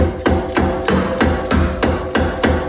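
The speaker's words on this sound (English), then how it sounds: "we'll take my hammer here and just kind of knock this out" A hammer strikes a metal suspension part on a BMW G80 M3 seven times in a steady, even rhythm, each blow sharp, loud and ringing briefly with no talking.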